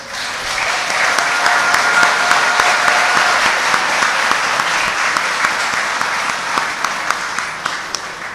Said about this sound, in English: I think we should give the graduating class a round of applause